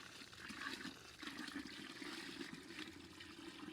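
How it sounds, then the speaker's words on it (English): Hydroponic nutrient solution pours from a heavy 20-kilo container into a buried bucket, making a steady, gushing splash of liquid that runs continuously for several seconds at close range. "Try to do my best to pour it in without spilling too much."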